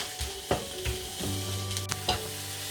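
Minced meat sizzles and fries with mushrooms in a hot pan, with a steady crackling hiss, occasional stirring scrapes and a few soft clatters of utensil against the pan.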